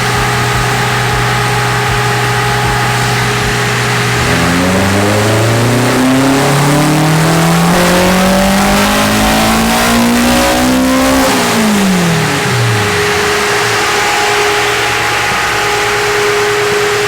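A high-compression K-series engine swapped into a Nissan S13 idles, then revs hard through a long rising sweep before dropping back to a steady idle, loud and close.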